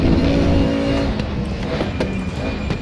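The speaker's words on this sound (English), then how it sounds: "a lot of people have praised the engine sound" A DTM Mercedes race car engine in the RaceRoom video game roars loudly and steadily on the Nordschleife, its pitch shifting slightly as it holds a high rev throughout.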